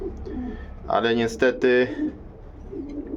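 Pigeons in a loft give a short, close coo of a few throaty notes, with someone speaking quietly before and after it.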